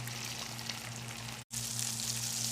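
Fish sizzles steadily in hot oil in a pan, a dense continuous hiss with a low hum underneath and a brief dropout partway through.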